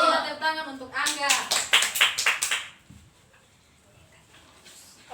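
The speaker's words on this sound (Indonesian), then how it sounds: "kita tepuk tangan untuk Angga." Classroom children clap their hands together in a short burst of sharp, rhythmic claps mixed with a voice, then the room falls quiet.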